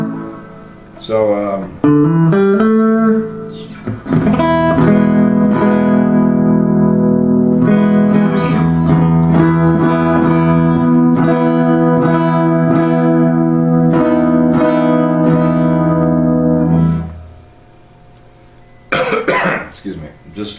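Electric guitar played through a Fender amp with the reverb turned well up, sustained chords ringing loud and washy for about fifteen seconds before cutting off, with brief noise afterward.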